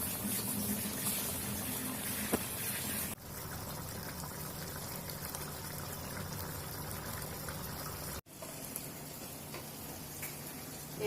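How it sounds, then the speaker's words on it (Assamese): Fish and tomato gravy simmers in a pan with a steady, dense bubbling hiss throughout, broken by two short dips, with no voices over it. "বিলাহী সিজিলে, মাছো সিজিলে"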